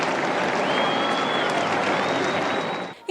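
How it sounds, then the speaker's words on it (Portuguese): Crowds of pilgrims gathered below the Apostolic Palace window applaud Pope Francis. The sustained, distant-sounding clapping carries a thin whistle over it for about three seconds, then cuts off abruptly. "ao aparecer na janela do Palácio Apostólico, foi acolhido com aplausos"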